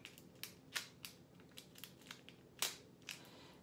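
Pliers cutting through material, a series of quiet, sharp crunching snips at an irregular pace, close to the microphone with no talk.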